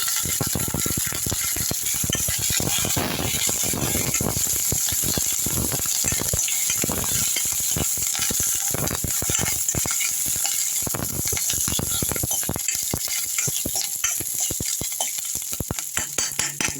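Ash gourd sautéing with curry leaves in a pan for chutney gives a continuous loud sizzle, broken by frequent scraping and clinking stirs, close up with no talk.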